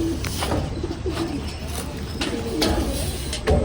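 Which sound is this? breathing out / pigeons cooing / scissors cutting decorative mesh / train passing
pigeons cooing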